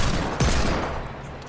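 Hand cannon gunfire in a video game, a loud booming blast with a sharp onset followed by a dense, sustained rumbling tail.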